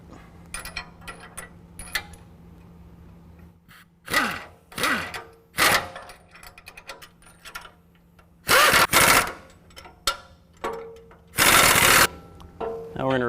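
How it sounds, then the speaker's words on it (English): A 3/4 inch socket and wrench tighten frame bracket bolts for a Go Industries Pro Series bumper on a 2017 Ford F-250 Super Duty. Several loud bursts of ratcheting and metallic clatter come in separate bunches, with quiet gaps between them. "I'm going to use a 3/4 inch socket and wrench to tighten down the 4 top bolts"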